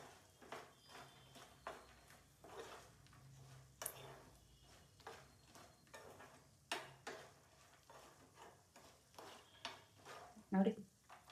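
Peanuts frying in a pan for a peanut masala snack, heard as quiet, uneven scraping and stirring strokes over a faint sizzle, with one sharper clatter near the end.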